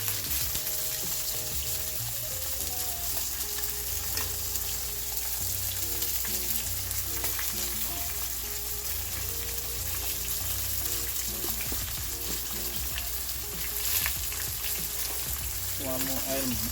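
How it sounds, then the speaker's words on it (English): Festival dumplings frying in hot oil for a Sunday fish-fry dinner, a steady, close, continuous sizzle and crackle that runs the whole time with only slight swells. "so you see the festival them are fry up now"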